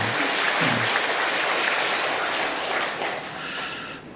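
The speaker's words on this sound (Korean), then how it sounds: "우리 다시 한번 영광의 박수 하나님 앞에 올려드리겠습니다" Dense, steady applause from a large church congregation, loud and continuous, easing slightly toward the end.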